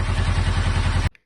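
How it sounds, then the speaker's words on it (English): A narrowboat engine runs after a repair, giving a steady, close, rhythmic low chugging clatter that cuts off abruptly near the end. "We have a running engine."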